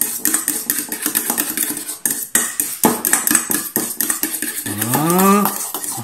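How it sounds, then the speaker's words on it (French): A spoon scrapes and clinks against a bowl in quick, irregular strokes while gravlax sauce is mixed, close up, and a low animal-like moan rises near the end. "Je mélange bien pour la faire quand même en forme de sauce."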